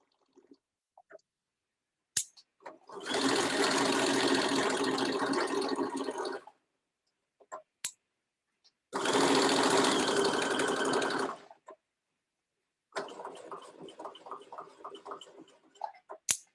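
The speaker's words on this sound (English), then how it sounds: "we're just going to do a permanent stitch across the top of that facing" A sewing machine stitches a permanent line across the top of a pocket facing on pants, running in two long steady bursts with short pauses and soft clicks between, then a lighter, uneven rattling stretch at the end.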